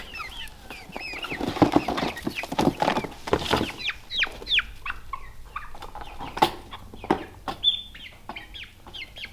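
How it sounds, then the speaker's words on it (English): A farm flock with two new roosters and chickens clucks and squawks continuously, overlapping calls near and far with rustling movement, busy and moderately loud. "So the 2 new roosters are right here. Let's let them out."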